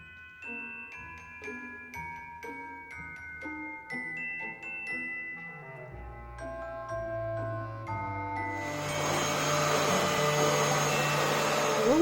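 A vacuum cleaner runs over carpet, its loud, steady whooshing roar surging in near the end and drowning out background music that plays alone before it.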